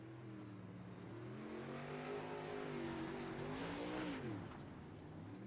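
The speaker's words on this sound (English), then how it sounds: "Some cars making their way out on track already." Super late model race car engines drone steadily at a distance as cars run along the indoor Chili Bowl dirt track, pitch slowly rising and falling, with no voices.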